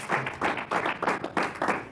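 A church congregation claps in a steady rhythmic beat, roughly six evenly spaced loud bursts of hands in quick succession.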